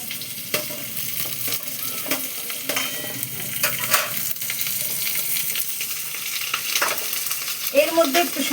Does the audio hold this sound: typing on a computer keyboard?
no